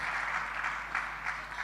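A church congregation claps in acclamation after a scripture reading at a morning prayer service, a short, soft, steady patter of applause heard at some distance.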